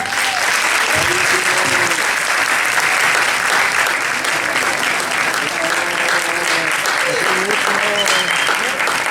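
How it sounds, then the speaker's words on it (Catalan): Enthusiastic audience applause at a film festival session fills the whole stretch, dense clapping with some cheering voices mixed in. "Aplaudeixin."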